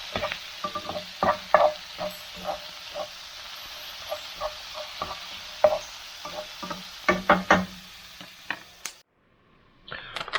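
Onions frying in a pan for lambs' liver and onions, with soft sizzling under scattered clicks and stirring scrapes, then a brief silence near the end.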